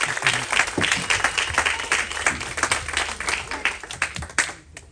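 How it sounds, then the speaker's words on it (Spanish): A church congregation applauds loudly and densely, a sustained wash of many hands clapping with some crowd noise beneath, close and full, tapering off at the end. "denle un fuerte aplauso al Señor"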